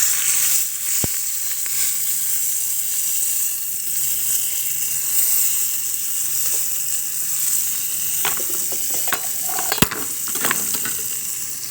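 Steady, close sizzling of spices frying in hot oil continues throughout, with a few sharp clicks and clinks of a utensil against the pan.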